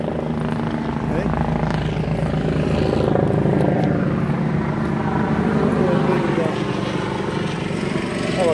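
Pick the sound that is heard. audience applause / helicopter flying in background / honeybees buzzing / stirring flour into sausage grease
helicopter flying in background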